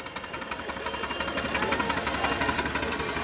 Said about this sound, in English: Number 6, a 3-inch Elgin traction engine,